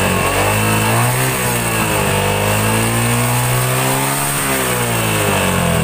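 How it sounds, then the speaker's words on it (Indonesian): A Yamaha Jupiter MX motorcycle engine is revved repeatedly during a charging-coil check, loud and close, rising and falling in pitch with throttle blips and no talk over it. "Yang punya motor suruh ngegasin."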